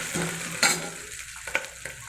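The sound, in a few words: ginger frying in oil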